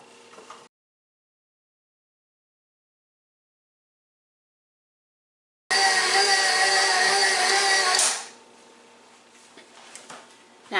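A stand mixer fitted with a bread hook whirs loudly for a couple of seconds while kneading sticky bun dough, then drops to a quieter, uneven churn with faint knocks.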